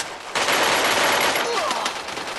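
Gunfire from the mobile shooter game Free Fire comes as a dense, continuous burst of rapid shots, loud and close, lasting about two seconds.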